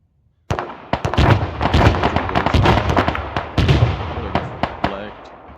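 Arma 3 battle with popping smoke: after a brief silence, a loud burst of gunfire and sharp pops starts, volleys of close cracks with rolling echoes over several seconds.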